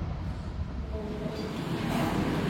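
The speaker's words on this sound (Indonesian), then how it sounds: "Saat ini kereta api Matarmaja telah tiba di stasiun Jati Barang." The Matarmaja passenger train arrives at Jatibarang station, a loud low rumbling roll of railcars that stays steady and close with a slight rise toward the end.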